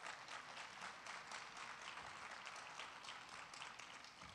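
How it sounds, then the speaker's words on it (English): An audience at a school district State of the District event gives a round of applause, a faint but continuous patter of many hands clapping throughout the short stretch. "Let's give it up, round of applause."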